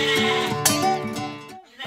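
A goat bleats repeatedly in a cartoon scene about a farmer taking his goat out to eat grass. Several wavering, nasal calls run close and loud one after another, with a short pause near the end before another call begins.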